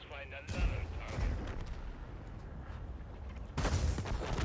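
T-55 tank cannon fire in a video game: heavy booming blasts with rumbling tails, one near the start and another toward the end, amid ongoing battle noise and game voice lines.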